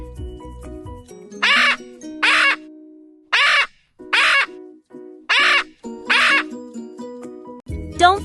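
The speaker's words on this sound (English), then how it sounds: "That's a parrot." A parrot gives seven harsh, squawking calls in an even sequence, each short burst clear and close against near silence, with a brief low rumble at the start and end.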